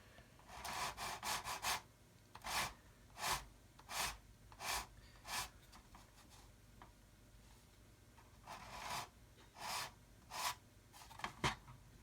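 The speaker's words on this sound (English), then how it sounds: "we've got a sprue nib, so I'm just going to sand that away" Sanding a sprue nib off a plastic model kit part with a fingertip guide: short rasping back-and-forth strokes in bursts, close and quiet, with pauses between and no talking.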